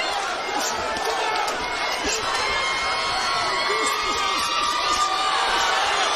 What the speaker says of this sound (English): And the chant going up in the crowd.